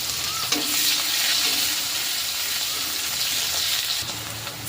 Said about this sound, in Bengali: ওই মাছ ভাজার তেলে অল্প একটু গোটা জিরে ফোড়ন দেব, আর এক টুকরো দারচিনি, একটু কুচানো পেঁয়াজ